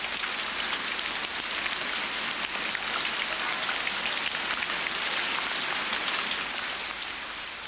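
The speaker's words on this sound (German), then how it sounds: "beginnt es wenige Tage später zu regnen. Nur kurze Zeit, aber doch so heftig, dass die Straßen bald schon unter Wasser stehen" Heavy rain pours steadily in Brazil after a long drought, a dense, continuous hiss of drops striking surfaces, loud and unbroken throughout with no voices.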